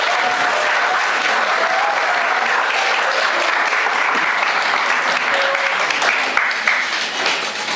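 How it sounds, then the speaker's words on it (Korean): Loud, sustained applause from a crowd at a Daegu press conference greets a lawyer announcing a mayoral run, a thick continuous wash of clapping that holds steady throughout and eases slightly at the end. "뜨거운 박수로 맞이해 주시면 감사하겠습니다"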